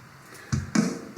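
Three reverberant rock drum hits of a doubled beat, a snare and kick pattern with reverb, spaced unevenly and heard alone, each one punchy with a short decaying tail.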